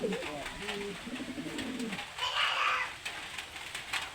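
A pet pigeon coos softly up close, a low rolling call in the first two seconds, followed by light rustling and a brief higher noise.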